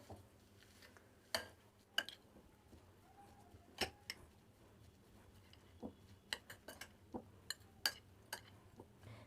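Chaat masala, black pepper and salt being mixed in a bowl, faint scattered clinks and taps of a utensil against the dish in a quiet room.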